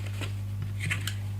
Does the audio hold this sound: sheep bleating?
no